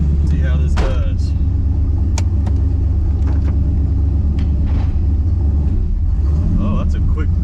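A widebody Chrysler Conquest/Starion with a V8 swap rumbles loudly while driving, a heavy continuous engine roar close by, with people talking over it.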